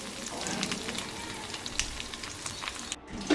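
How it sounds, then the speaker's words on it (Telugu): Garlic tempering in a pan for dal sizzles softly and steadily with faint crackles and pops, quiet and close, then briefly cuts out before resuming. "కొంచెం ఫ్రై అయిపోయినాక ఇంకా పప్పులో అయితే వేసేసుకున్నాను పోపు"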